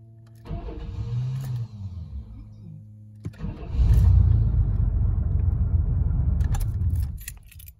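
A 1994-2004 Chevy S10 Blazer with a faulty starter cranks, its starter zinging and whining as the engine turns over and rumbles into a steady idle, close and loud.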